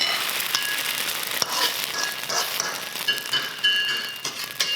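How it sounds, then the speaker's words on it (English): Egg frying in hot oil in a wok over high heat, a steady bright sizzle and crackle with sharp pops, close and continuous, with no talk. "Get enough egg into that hot oil,"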